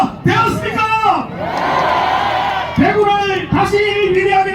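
A political rally crowd at a Daegu–Gyeongbuk campaign event shouts loudly in unison in answer to a speaker, with swelling bursts of massed voices, a sustained roar, then more sharp collective yells close together.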